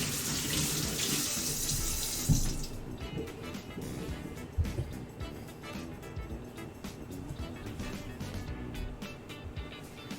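Running tap water splashes loudly over a salty preserved lemon being rinsed for about two seconds, then gives way to quieter kitchen handling and scattered knocks.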